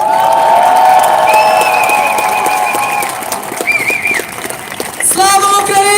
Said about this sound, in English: let's give a huge round of applause to those people who lay down today on the floor